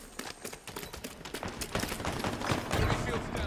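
Rapid bursts of gunfire in Halo Infinite play out over dense battle noise, with sharp overlapping shots building in intensity.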